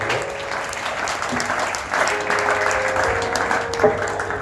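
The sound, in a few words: audience applauding loudly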